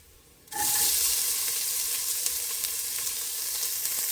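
Onions drop into hot oil already frying spices, ginger and garlic for a vegetable pulao, bursting into a loud, sudden sizzle after a quiet moment and then hissing steadily up close.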